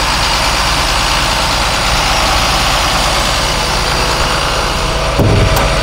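A 2011 IC RE300 school bus diesel engine with turbo and particulate filter idles with a steady low rumble that stays constant and loud, with a brief click near the end.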